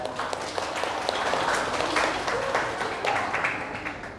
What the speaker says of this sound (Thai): ปรบมือเป็นกำลังใจคู่วิวาครับ